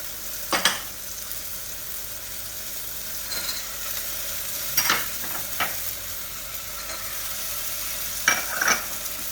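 Greens and dry spices with salt go into a pan of healthy vegetable oats khichdi, stirred with a few scattered scraping knocks over a steady soft sizzle, no talking.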